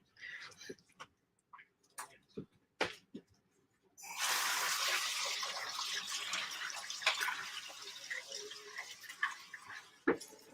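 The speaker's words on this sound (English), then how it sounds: "Let's take this over here and rinse this out. I'm gonna have to start with hot water with this" A hot tap runs steadily into a sink to rinse dyed mink fur, a broad continuous wash of flowing water after a few scattered clicks and knocks of handling at the start.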